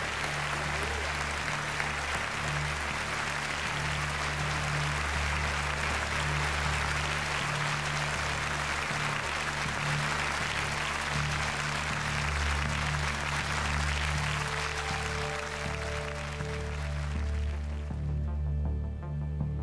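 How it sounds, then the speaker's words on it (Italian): Audience applause at the Miss Italia 2005 beauty pageant final, a loud, dense, sustained wash of clapping filling the hall, with music beneath it and a few tones entering near the end. "Fate sentire fortissimo il vostro applauso."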